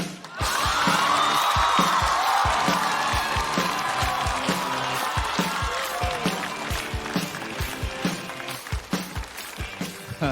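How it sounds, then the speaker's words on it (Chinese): Studio audience at a stand-up comedy show applauds and cheers to welcome a comedian on stage, a loud sustained burst of clapping with whoops that thins toward the end. "我们掌声有请启鹏。"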